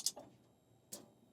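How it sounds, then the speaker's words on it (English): Two short, quiet ticks about a second apart from a car's electric fuel pump cycling, alone in a near-silent setting. "It's a very quiet fuel pump action."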